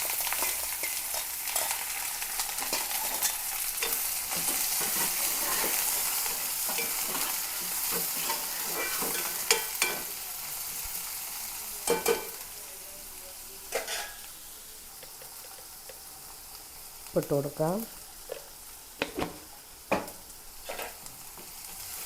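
Curry leaves, onion, garlic and green chilli fry in hot oil with a continuous close sizzle, while later stretches bring scattered spoon-and-pan clinks and stirring knocks, and a voice speaks briefly.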